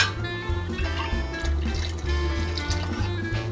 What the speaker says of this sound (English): we will be adding a little bit more of our boiled water